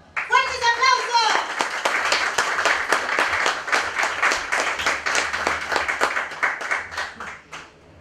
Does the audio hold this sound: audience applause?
yes